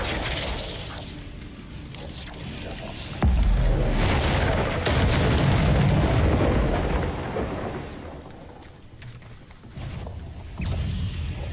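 Confringo explosion spells in Hogwarts Legacy boom out amid game combat: a sustained rumbling roar swells into a heavy blast around the middle, followed by crackling debris and another surge near the end, loud and close.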